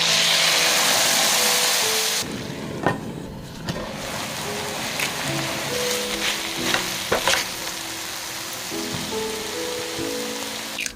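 Wasabi sauce hits a hot pan in a home shrimp stir-fry, with a loud, steady sizzle for the first two seconds that then settles into a softer, crackling fry.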